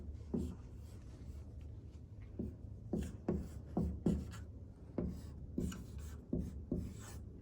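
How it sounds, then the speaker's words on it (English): A pen scratches across paper in a series of short, close strokes with small pauses between them, quiet and steady with no voices over it. "Let me write here."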